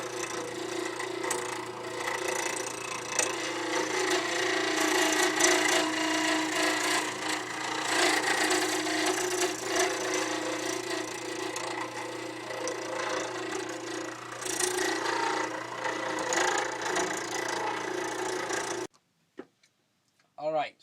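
Deer antler being turned on a wood lathe, a hard material that chips heavily: a steady, loud broadband scraping and rubbing drone with a constant motor hum underneath, running continuously for most of the clip before cutting off near the end.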